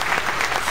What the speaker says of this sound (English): Gratuitous clap, Jack.